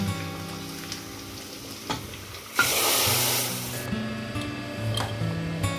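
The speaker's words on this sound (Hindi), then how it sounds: "अब हम इसमें ये तड़का डाल देंगे।" Hot tadka tempering with green chillies poured into pressure-cooked mixed daal, giving a sudden loud sizzle and hiss that settles into steady frying bubbling, close up.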